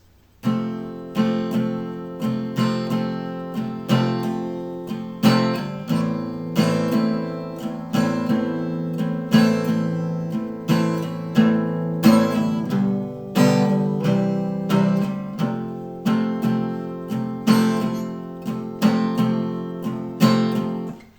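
Steady acoustic guitar strumming the intro of a song in a lively repeating pattern, ringing open chords with sharp down-and-up strokes, unmuted, loud and close with no voices.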